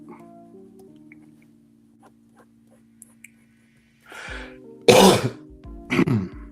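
A quiet stretch, then a rough cough followed by two sharper coughing bursts, close and fairly loud.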